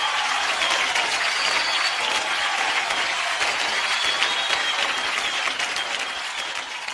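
An audience claps loudly and continuously for several seconds, a dense, steady applause that tapers off slightly at the end.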